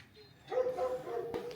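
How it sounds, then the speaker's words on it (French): Large guard dogs bark on the slopes of Trebević near Sarajevo, giving a short run of mid-distance barks and yips over quiet outdoor ambience. "il y a pas mal de chiens ici qui font bien peur"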